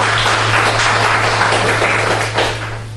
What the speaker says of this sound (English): Give yourselves a hand, y'all.